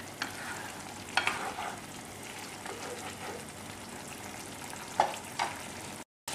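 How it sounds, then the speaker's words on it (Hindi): Green chilies frying for Chicken 65: a quiet, steady sizzle in a pan, broken by a few crackles and stirring scrapes, with a brief drop-out near the end. "इसमें हम ग्रीन चिली भी डाल देते हैं और हल्का सा कुक करते हैं"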